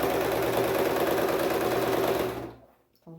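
Sewing machine stitching fabric in one steady, loud, close run that slows and stops, followed by a brief click.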